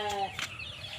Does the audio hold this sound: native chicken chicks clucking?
yes